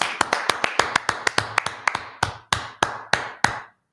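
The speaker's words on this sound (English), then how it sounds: "Clap it up for the class." A few people in a class clapping, sharp, close claps that start quick and irregular, then slow and spread out before stopping, with no talk over them.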